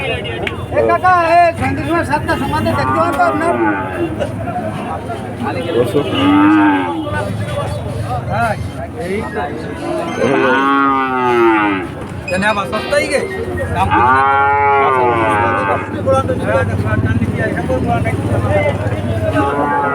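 Cattle at a busy rural cattle market, several loud, nearby bellowing moos spread across the stretch, mixed with crowd chatter and people talking.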